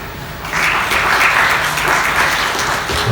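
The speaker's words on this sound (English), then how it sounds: "Please give us a round of applause" An audience at a company presentation in Irkutsk breaks into loud, steady applause for a speaker coming on stage, dense clapping that swells after a brief quieter start and carries through to the end.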